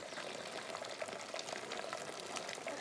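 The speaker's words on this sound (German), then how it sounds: "Rein mit dem Wollknäuel und eine halbe Stunde gekocht." A skein of wool simmers in a pot of dye, giving a steady, dense bubbling and hissing of boiling water that stays even and fairly close throughout, with no voices.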